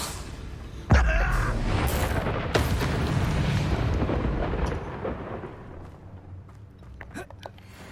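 A Confringo blasting spell goes off in Hogwarts Legacy, a loud, close boom followed by a second blast and a long rumbling decay that fades over several seconds.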